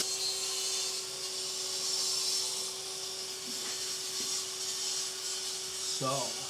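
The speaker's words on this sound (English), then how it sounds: "They've got a grinder hooked up with a HEPA filter." A masonry grinder hooked to a HEPA filter vacuum runs in a historic Philadelphia townhouse, giving a steady broadband roar with a constant droning hum throughout. Brief clunks and a short voice are heard near the end.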